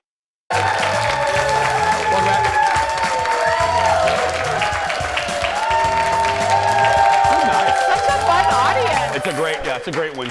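A studio audience at a daytime television show applauds and cheers loudly and steadily for about ten seconds, with voices carrying over the clapping before it begins to ease.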